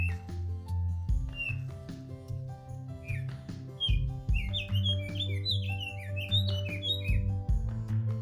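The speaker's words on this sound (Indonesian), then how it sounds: "tim ekspedisi Gunung Merbabu Komparle disambut burung kacer gunung yang riang menyambut tim ekspedisi Gunung Merbabu Komparle" A mountain magpie-robin (kacer gunung) sings on Mount Merbabu, giving a lively run of bright chirps and whistled phrases, denser in the second half, over a steady low drone.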